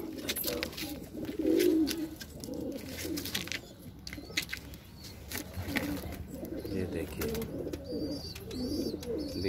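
Pigeon cooing softly at its nest with eggs, a low repeated coo swelling near the start and recurring over a quiet indoor background.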